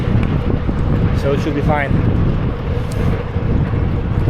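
Strong wind roars and buffets the microphone during a ride on a used carbon race bike. The broad, blustery noise runs the whole time while a person talks over it.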